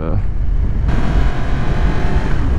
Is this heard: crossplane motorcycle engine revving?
yes